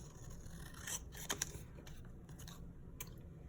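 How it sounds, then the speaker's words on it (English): A few quiet, crisp snips of scissors cutting through paper, close by, with short pauses between cuts and no one talking. "I'm going to take my scissors and just cut out the word Halloween."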